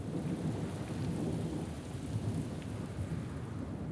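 Steady rain falls on an outdoor field site during a commando training course, a dense, even hiss with low rumbling underneath and no voices.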